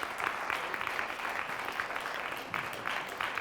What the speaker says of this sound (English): the audience applauds so immediately once that final buzzer sounds